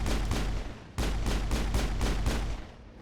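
Gunfire from the Mass Effect video game: a rapid run of loud, close shots in a regular rhythm, about eight or nine blasts with a brief pause near the middle, and no voices.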